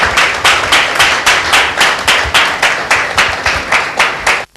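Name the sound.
congregation clapping in church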